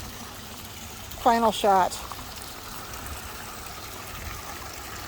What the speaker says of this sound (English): Pondless Waterfall.